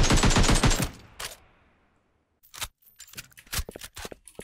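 An AK47 fires in a browser battle royale video game: a rapid automatic burst rattles out loudly and fades, then several sharp single shots crack at irregular intervals.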